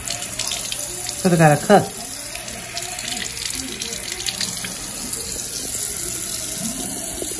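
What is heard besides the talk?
water running from a sink tap for rinsing mouth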